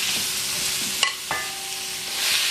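Sesame oil sizzling in a pan for a quick Korean stir fry with shiitake mushrooms, a steady bright hiss throughout with a couple of sharp crackles and stirring scrapes around the middle.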